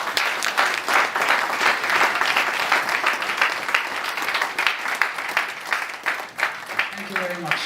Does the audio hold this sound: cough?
no